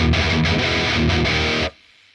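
Distorted electric guitar played through a Mesa Boogie amp simulation with an M160 impulse response, a dense, loud chugging riff with brief rhythmic gaps that stops abruptly, leaving a faint ringing tail.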